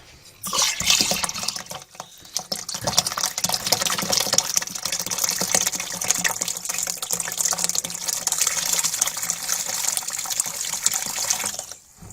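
Water runs steadily from a tap into a container of tie dye, a continuous splashing pour that starts abruptly, lasts about ten seconds and then cuts off, with no talking.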